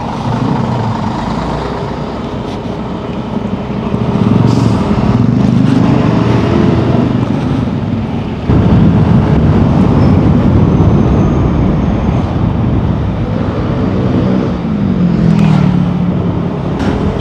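A stock Yamaha Aerox 155 scooter engine drones steadily while being ridden, a loud continuous close hum that swells as the throttle opens, with wind noise and no talk.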